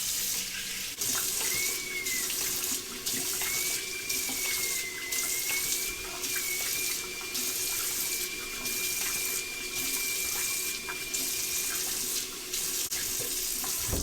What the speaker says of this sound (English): At the certain setting, the water will whistle when it's coming out of the tap.